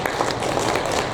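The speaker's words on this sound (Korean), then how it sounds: "박수 한번 해주세요." A church congregation at a Sunday Presbyterian service applauds in a brief, continuous burst of many hands clapping, dense and fairly loud.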